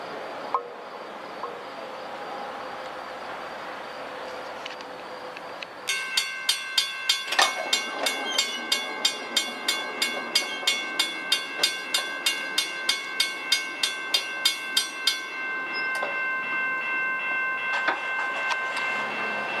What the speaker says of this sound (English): we should see New York and Atlantic's freight, RS-51, following him